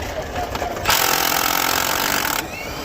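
A power tool zips out a brake caliper bolt on a Kia Sorento in one loud buzzing burst of about a second and a half, close by, between quieter workshop noise.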